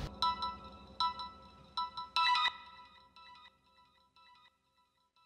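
A phone ringtone plays a bright, repeating electronic melody in several clear bursts, then trails off into quieter tones.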